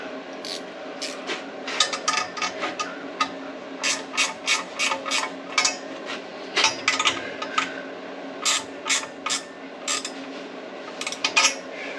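A fastener on a part is tightened with a hand tool, giving a close, irregular series of metallic ratcheting clicks and rasps in short bursts over a faint steady hum.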